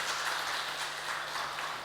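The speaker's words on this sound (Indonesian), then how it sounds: "Bapak Ibu silahkan memberikan tepuk tangan untuk saudara kita yang baru." A church congregation applauding during an online Sunday service: steady, continuous clapping from a crowd, moderately loud, with no talk over it.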